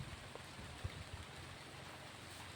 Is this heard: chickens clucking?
no